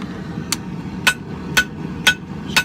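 Hammer blows on an old file being forged into a taper for an herb chopper, five sharp ringing strikes at a steady half-second rhythm over a low background rumble.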